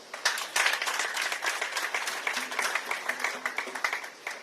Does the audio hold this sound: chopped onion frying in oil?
no